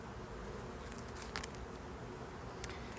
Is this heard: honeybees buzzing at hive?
yes